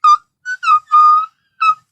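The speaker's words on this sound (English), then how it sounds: "Like that is whistle voice." Whistle voice singing produces a series of very high, thin, pure tones in short separate bursts with one longer sustained note, loud and close, with no other sound between them.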